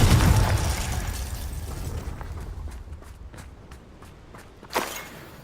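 A Confringo blasting spell explodes in Hogwarts Legacy with a loud, low-heavy blast that decays into rumbling debris, followed by light scattered steps and a sharper second pop near the end.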